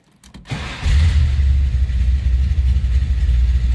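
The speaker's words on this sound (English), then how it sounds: "Let's go ahead and start this car up once. So you can hear a great sounding car too." A 1972 Chevrolet Chevelle cranks briefly and fires up, then settles into a loud, steady, deep idle with a low rumbling pulse close by.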